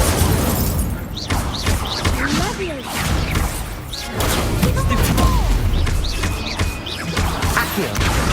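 Hogwarts Legacy combat with the Incendio fire spell: a burst of whooshing flame and heavy crashing impacts amid layered battle effects, a voice calling out spells over the din.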